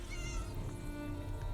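A cat meows in the video game Elder Scrolls Online, a drawn-out, wavering call heard up close against a soft steady background.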